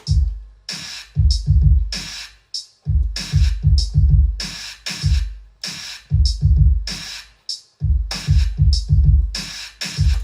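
A programmed drum beat built in FL Studio, punchy booming kicks in a repeating syncopated pattern with crisp snare or clap hits between them, loud and dry with no voices.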